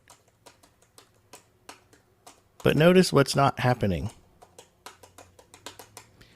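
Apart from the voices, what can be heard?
typing a note on a Braille display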